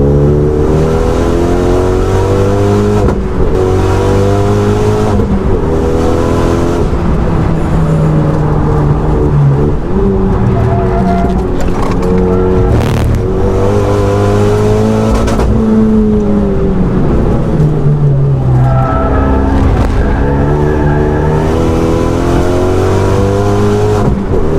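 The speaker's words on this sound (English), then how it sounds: "But that turbo's coming in so nice and early." A turbocharged RenaultSport Megane 250 Cup accelerates hard on a track, engine loud and close with rising harmonic revs, upshifts breaking the climb, and steady wind and road roar throughout.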